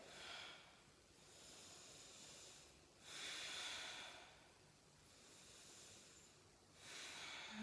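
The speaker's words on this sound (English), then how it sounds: "let's take 2 breaths here" Slow, deep breaths during a vinyasa yoga flow come as soft hissing inhales and exhales, rising and falling in a calm, even rhythm. They are faint and close, with no talking.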